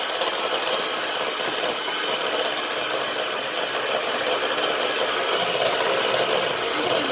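A stand mixer whirs steadily, beating butter for a stout cake, with a dense, even motor drone and rattle that continues unbroken at close range.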